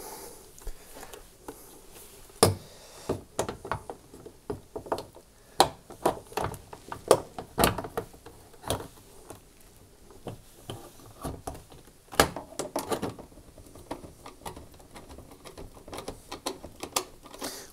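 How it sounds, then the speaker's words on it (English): Hotpoint washing machine door being refitted and screwed onto the machine, with irregular sharp clicks, taps and light knocks close by, scattered at an uneven pace. "I can now refit the door to the machine."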